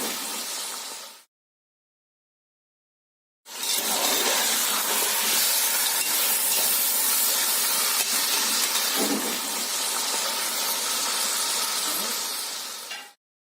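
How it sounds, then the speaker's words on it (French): Lamb meat browns in a hot pan for Senegalese red thieboudienne, a loud, close, steady sizzle and hiss that cuts out briefly, then resumes for about ten seconds. "Donc, on va laisser dorer la viande et ensuite y mettre les oignons et le poivron."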